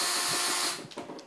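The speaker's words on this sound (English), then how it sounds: "And you just basically run your drill up and down." A drill spins a cleaning brush inside a carboy, giving a steady whirring, scrubbing buzz that fades out partway through, followed by a few quieter clunks up close.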